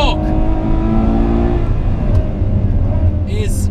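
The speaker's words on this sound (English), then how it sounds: "I'm sure you can hear those gear shifts, they're explosive." A Ferrari 812 Superfast V12 revs hard on the Fiorano track, a loud, continuous engine roar with sharp pitch drops at gear shifts, heard from inside the car.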